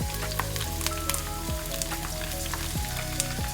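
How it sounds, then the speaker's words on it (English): Garlic frying in oil in a pan while making instant mango pickle, a steady dense sizzle with crackling pops running throughout, close and continuous with no talk. "Just when you feel the garlic is getting fried"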